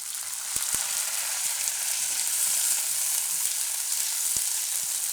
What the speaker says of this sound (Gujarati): આપણે એમાં ડુંગળી નાખીશું